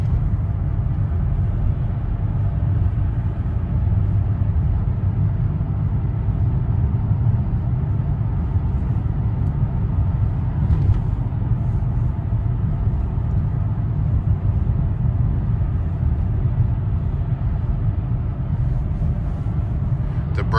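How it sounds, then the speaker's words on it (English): A 2008 Chevy Impala on a test drive at close to 60 mph, with a steady engine drone and road rumble filling the cabin at a constant loud level from start to finish. "So I'm up to almost 60 miles per hour, and it still drives really, really smooth."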